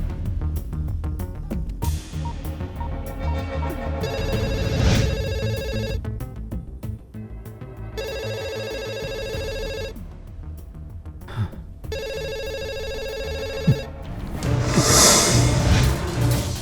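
A telephone rings in repeated bursts with short gaps between them, loud and alone, closing with a brighter electronic swell, in a Hindi-dubbed movie.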